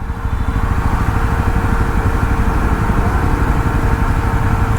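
A Yazdi Roadster motorcycle engine runs loud and close on an evening ride. The rough, throbbing rumble holds steady and unbroken throughout, with wind noise mixed in.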